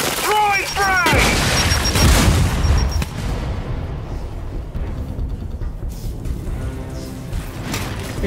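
A frag grenade detonates in the video game Blooddrive, a loud booming blast among gunfire and mechanical game sounds, followed by a rumbling tail.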